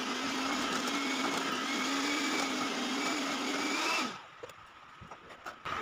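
An electric mixer beats a marshmallow mixture, a loud, steady motor whine that runs for about four seconds, then cuts off, leaving faint clinks and handling noises.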